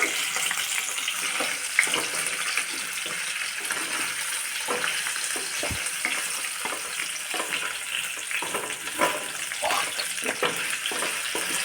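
Homemade paneer frying lightly in oil, a continuous hissing sizzle with faint crackles and one sharp tap partway through, steady and close, no talking.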